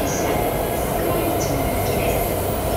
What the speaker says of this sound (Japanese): お、新幹線来ました。